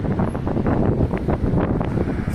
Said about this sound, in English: to try and get out of this wind